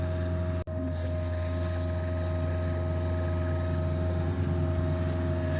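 A Cat utility vehicle with four-wheel steering runs at a steady idle-like drone, a constant tonal engine hum with a brief dropout near the start, close and continuous.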